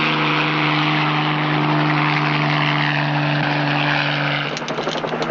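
A police helicopter flies with a loud, steady droning engine hum and rotor throb, close and continuous, the tone shifting and chopping near the end.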